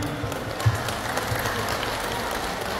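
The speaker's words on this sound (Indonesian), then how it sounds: "Mari kita kasih aplaus sama ketua kita" Applause from a crowd at a dinner gathering in a temple hall, steady dense clapping sustained throughout, moderately loud with a slight swell near the start.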